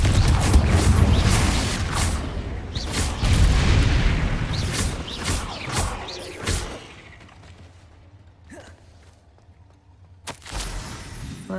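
The Confringo fire spell goes off in the video game Hogwarts Legacy, a loud booming blast with rumbling debris that decays into quieter mechanical clanks and a few later thuds.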